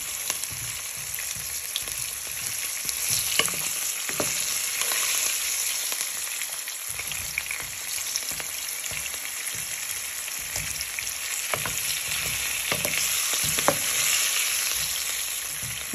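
Cauliflower pieces frying in oil in a pan, a loud, dense, continuous sizzle with scattered scraping and stirring clatter throughout.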